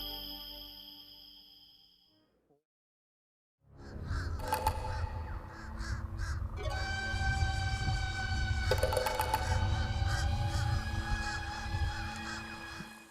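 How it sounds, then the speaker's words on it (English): Birds at Kennedy Space Center call loudly and repeatedly in harsh, cawing and honking cries that overlap continuously after a brief silence. "If you like rare birds, this is the place to be."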